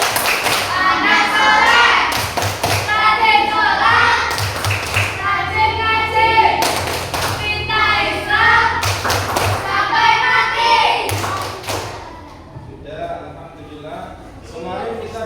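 A classroom of children claps out a rhythmic hand-clap chant in bursts of sharp claps, with their voices chanting along and a teacher speaking between rounds.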